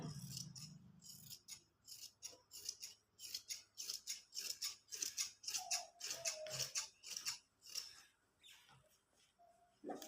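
Steel tailoring scissors snip through excess suit fabric in a rapid run of crisp, close cuts, with short pauses between bursts of snipping and no talking.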